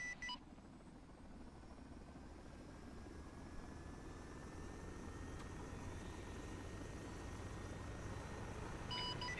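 A helicopter engine spools up in the military game ArmA 3, a low, faint rotor drone with a thin whine slowly climbing in pitch, heard alone with no voices.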